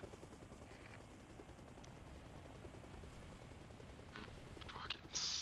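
Helicopter engine in the video game Arma Reforger drones steadily at a low, even level, with a few faint high clicks and a louder burst near the end.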